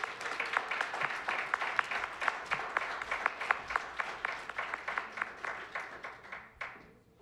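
An audience at an evening student gathering applauds, a rhythmic burst of clapping that stays steady for several seconds before tapering off at the end.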